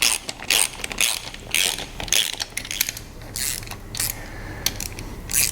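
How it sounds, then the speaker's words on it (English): Ratchet wrench running down the crankcase bolts on an Evinrude 150 outboard during crankshaft installation, a close, rapid clicking of the pawl in repeated bursts with short pauses between, and no one talking. "let's pop the crankcase on and get the bolts on for that. The instruction now is to run these down lightly."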